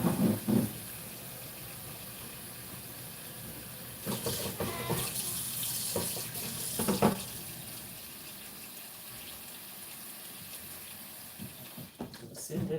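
Warm water from a tap runs steadily as a broad, continuous rush, with a few louder splashing and handling bursts along the way.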